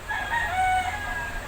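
A neighbour's rooster crows once, a drawn-out call heard close and clear over faint background noise.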